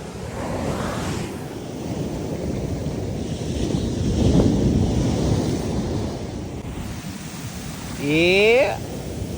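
Sea waves wash onto the beach at Dwarka in a continuous surging roar with wind buffeting the microphone, rising in one swell, and a brief tonal sweep near the end.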